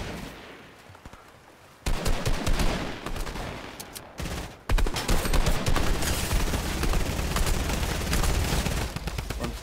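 Rapid drum gun fire in the Fortnite video game, bursts of loud automatic shots stacking into sustained fusillades after a quieter opening, with no talking over them.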